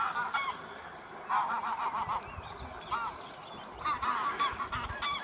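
Strange, whistle-like bird calls ring out outdoors on the Isle of Mull in several repeated bursts of squeaky, honking notes at moderate distance, with quiet pauses between them.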